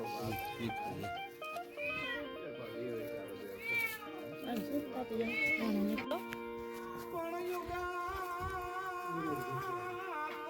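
A cat meows repeatedly, with drawn-out, wavering cries during a rescue, close and fairly clear, while people talk around it throughout.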